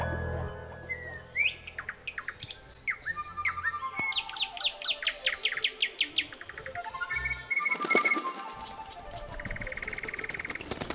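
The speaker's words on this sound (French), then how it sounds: "Je veux que toutes sortes d'oiseaux volent dans le ciel." Birds sing in a bright, busy chorus of varied chirps, trills and whistled phrases, with rapid repeated notes and a denser burst of calls toward the end.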